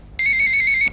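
A telephone rings once, a loud, bright electronic trill lasting under a second, close and alone in a quiet domestic scene of a Pakistani family drama.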